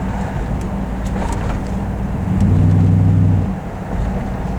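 A 6.0 LS V8 engine in an Oldsmobile Custom Cruiser station wagon idles with a low, steady rumble, swelling briefly louder for about a second before settling back to a steady idle.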